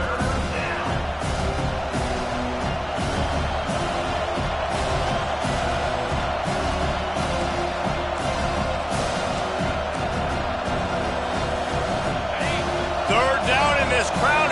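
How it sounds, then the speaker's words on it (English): A loud college football stadium crowd roars continuously on third down at a Syracuse–Miami NCAA game, with a broadcast commentator talking over the noise. "Third down, and this crowd is tearing the lid off this place."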